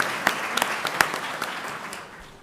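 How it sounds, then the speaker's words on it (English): A school board meeting audience gives a brief round of applause, a steady wash of many hands clapping at moderate volume with a few sharper claps standing out, fading toward the end. "So Chef Burson and Chef Hodge, if we can give them a round of applause as well."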